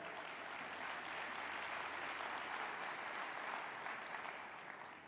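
Audience applause greets a speech by the Atlanta mayor, a continuous even roar of many hands clapping that holds steady at full strength before easing slightly at the end.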